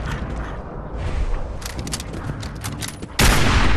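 Gunfire at a mongrel dog in Fallout 4 comes as a rapid, dense volley of sharp shots with a booming blast near the end, loud and close, with no speech.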